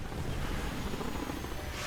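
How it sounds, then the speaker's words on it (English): A steady low rotor-like rumble with broadband wind-like noise, continuous and fairly loud, from an attack helicopter approaching in the video game Homefront. "Attack chopper coming in sight."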